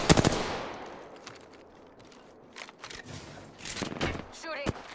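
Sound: gunfire in the video game Apex Legends

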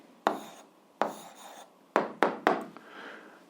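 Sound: writing down an answer with a pen

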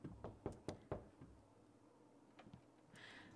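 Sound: Sims character knocking on a door in The Sims 2 video game

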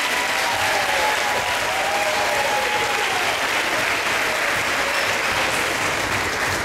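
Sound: audience applause for the juniors at a kids' triathlon awards

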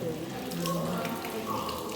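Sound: mineral water flowing from a spring tap in a pump room

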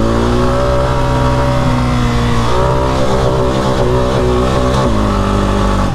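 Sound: Honda Rancher 400 ATV with paddle tires engine revving

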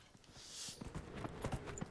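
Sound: horse hooves from video game Dragon Age Inquisition

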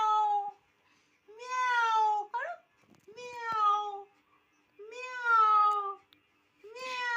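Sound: child imitating cat meow

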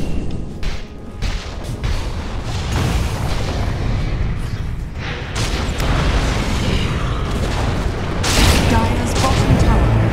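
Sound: tower being destroyed in Dota 2 video game

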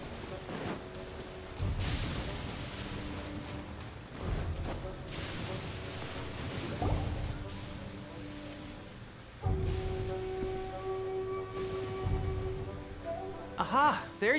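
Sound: rain falling in the video game Genshin Impact

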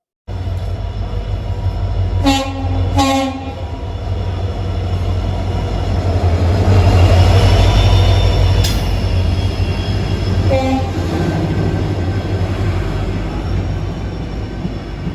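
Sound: Amritsar Ajmer Express 19614 train arriving at Sangrur station

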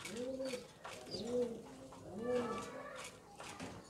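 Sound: pigeons cooing in a loft

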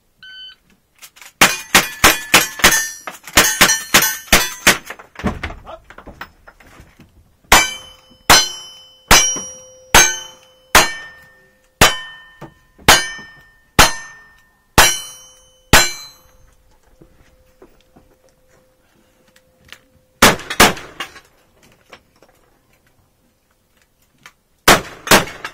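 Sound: pistol shots hitting steel targets

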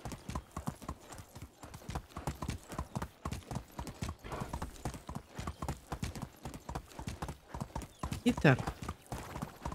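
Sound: horse hooves clip-clopping in video game Medieval Dynasty

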